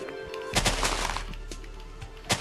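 Several TNT blocks explode in Minecraft in close succession, a burst of booming blasts with a deep low rumble that trails off, then one more sharp blast at the end.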